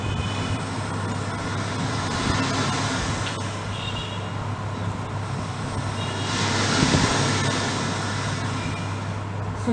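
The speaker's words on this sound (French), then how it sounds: "C'est le bruit de la mer." The sea roars as a steady, broad wash of noise that swells somewhat louder toward the end, with a low hum running underneath and no voices.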